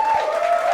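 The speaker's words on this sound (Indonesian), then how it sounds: "Tepuk tangan dulu dong." Studio audience applause during an Indonesian television quiz show, a brief, dense burst of clapping heard at close range with a steady ringing tone running underneath.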